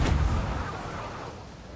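A cannon in the pirate game Sea of Thieves fires with a single loud, near boom and launches a player into the air, the blast fading into a long rumbling tail.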